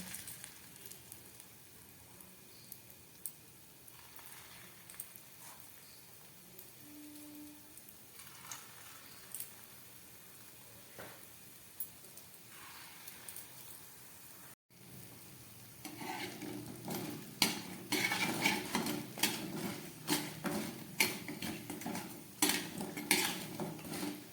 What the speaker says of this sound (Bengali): এগুলোকে খুব ভালো করে ভেজে নিচ্ছি